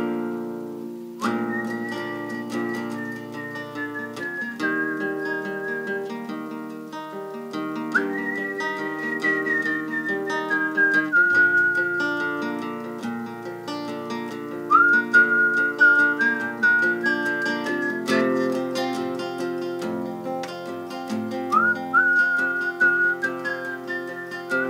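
A person whistles the Afrikaans folk tune Suikerbossie alone, clear sustained notes gliding between pitches at a relaxed, unhurried pace.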